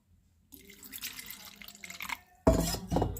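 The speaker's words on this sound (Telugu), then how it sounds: "దీంట్లో కొన్ని వాటర్ పోసుకున్నాను" Water splashes and trickles into a bowl of tamarind, starting softly and then a louder burst of pouring near the end, close by.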